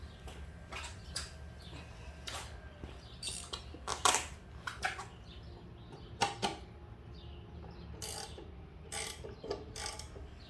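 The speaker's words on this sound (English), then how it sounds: "We'll get our wrench." A wrench ratchets while working on a lawn mower, a scattered series of short, sharp clicking bursts over a low steady background hum, with no talking.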